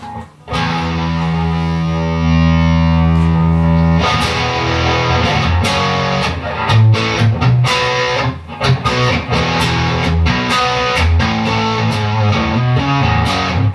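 Electric guitar through a Fender Pugilist distortion pedal set toward overdrive: a long sustained chord rings out, then choppy muted strums and riffs follow in bursts.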